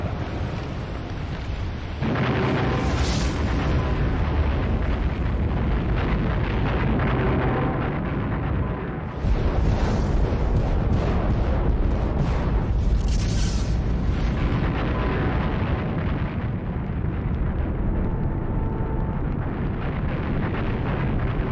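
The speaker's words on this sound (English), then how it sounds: "The blast of a super eruption would be awesome enough" A super volcano eruption blast roars as a continuous, very loud broadband rumble with deep booming low end, surging and shifting in intensity without pause and with no voices.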